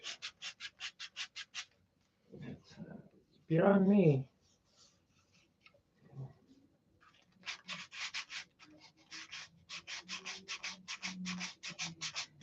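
Wood is sanded by hand in quick, even back-and-forth strokes, loud and close, in a steady run at the start and again at the end, with someone talking briefly in between.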